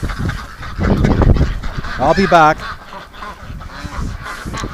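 Penned ducks and geese honk loudly, with a burst of strained, wavering goose calls in the middle and scattered squawks throughout; someone speaks briefly near the end.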